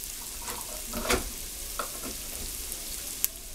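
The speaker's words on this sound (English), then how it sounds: "I'm putting some minced onion in there." Minced onion frying in a pan for broccoli cheese soup, a soft continuous sizzle broken by a few stirring scrapes and a sharp tap near the end.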